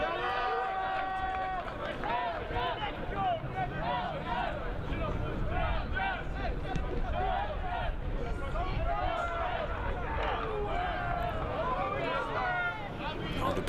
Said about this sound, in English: Belgian crowd has been awakening.